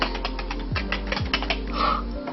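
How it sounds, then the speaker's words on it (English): Someone types one-handed on a computer keyboard, giving a quick run of light, uneven clicks and taps up close over a low steady hum. "I'm getting really good at typing with one hand"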